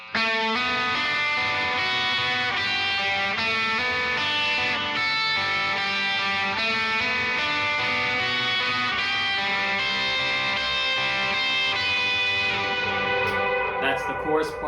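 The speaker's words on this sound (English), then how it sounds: "is with the effects, reverb, delay, overdrive." Electric guitar run through reverb, delay and overdrive, playing a chorus melody with dense, smeared, sustaining notes that blend continuously and loudly before fading near the end.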